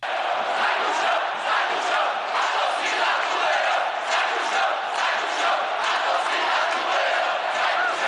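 Fortaleza organized supporters chanting together in a Brazilian stadium, a massed crowd roar with rhythmic pulses, steady and loud throughout.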